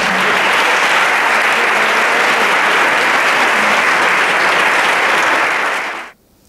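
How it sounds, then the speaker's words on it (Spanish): An audience at a psychology talk on OCD treatment bursts into loud, sustained applause for a speaker, which stops abruptly near the end. "Demos un gran aplauso a Noelia."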